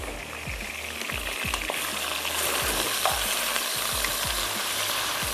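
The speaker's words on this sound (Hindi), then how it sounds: "हल्का सा सौते करते हैं बस।" Ingredients for hara masala pasta lightly sautéed and stirred in a hot pan, a continuous loud sizzle with repeated scraping strokes of a spoon at a steady rhythm, no voices.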